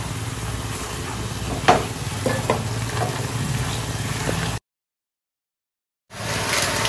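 Paneer pieces dropped into hot oil sizzle and fry steadily, with a few louder spits and crackles as pieces go in, then a brief dropout before the frying resumes.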